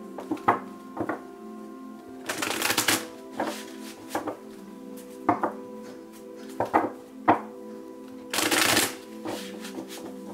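Several bursts of crisp riffling from a deck of cards being shuffled, each a quick fluttering rush, separated by soft taps and thumps, with a steady low hum in the background.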